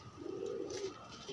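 A pigeon from a group of about fifteen birds offered for sale gives a single soft, low coo, faint against a quiet background.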